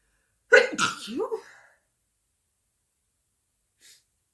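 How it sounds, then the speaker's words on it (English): A single close, forceful sneeze with a sharp burst and trailing exhale, then silence apart from a faint short sniff. "I'm going to sneeze."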